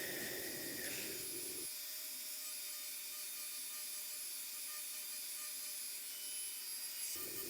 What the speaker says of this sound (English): I've moved on to the little pin rubber polisher, and that works quite nicely for the smaller areas on the leaf.